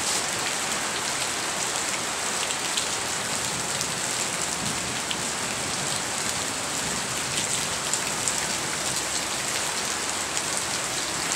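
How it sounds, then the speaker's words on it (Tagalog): Heavy rain pours steadily, a dense continuous hiss of drops hitting surfaces with no break and no voices. "Napakita ko sa inyo, umuulan nga talaga."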